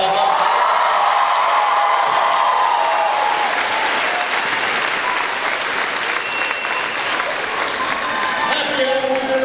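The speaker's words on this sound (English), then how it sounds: "A big round of applause." A large crowd at a President Obama event at Rhode Island College bursts into loud, sustained applause with cheering and whoops throughout.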